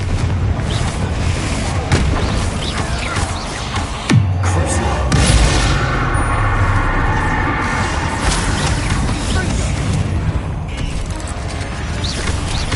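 Confringo blasting-spell explosions in the wizarding video game Hogwarts Legacy, loud booming bursts with a strong deep blast near the middle, amid continuous dense game noise.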